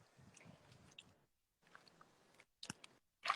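Someone chews a fresh garden pea eaten straight from the pod, giving soft wet crunching and squishing bites close to the mic, with pauses between bursts and a sharper crunch near the end.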